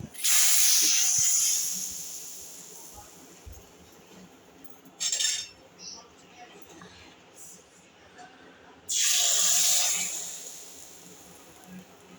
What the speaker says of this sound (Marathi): आणि आता ही फोडणी मी वरणात टाकणार आहे